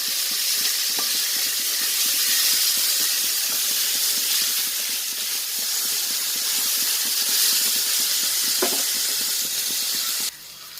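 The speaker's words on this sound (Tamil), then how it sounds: "வெங்காயம் நல்லா சுருளை வதங்குறதுக்கு உப்பு சேர்த்துக்கலாம்" Onions sauté with salt in a pan for anchovy soup, giving a continuous close sizzling hiss with faint stirring ticks throughout, before it abruptly drops at the end.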